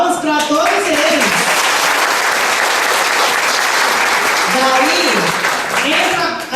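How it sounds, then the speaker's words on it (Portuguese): An audience at an education event applauds loudly and steadily, with a speaker's voice heard over the clapping at the start and again near the end. "Palmas para todos eles."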